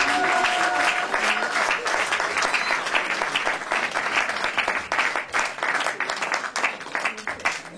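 A church congregation at a wedding blessing breaks into sustained, dense applause, many hands clapping together at close range, fading slightly toward the end.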